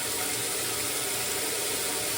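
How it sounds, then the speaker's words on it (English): Water flushed through a toilet being installed in a house in France, a continuous loud rushing gush with no pauses, close by. "let's just run a bunch of water through it because I have to carry it through the house"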